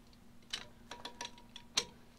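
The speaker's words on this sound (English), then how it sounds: "Hear it click, it's torqued." A Precision Instruments 1-inch-drive torque wrench retorques a semi truck lug nut, giving several quiet, sharp clicks spaced irregularly over a faint background hum.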